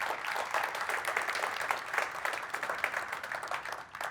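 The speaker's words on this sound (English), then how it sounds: "So round of applause for our operations team" A conference audience at an innovation day event gives a steady round of applause, dense continuous clapping at moderate level that holds evenly for the whole stretch without speech.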